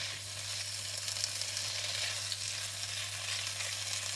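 Char kway teow noodles with dark soy sauce are stir-fried in a pan, a steady close sizzle with light stirring scrapes over a low constant hum from a burner or extractor.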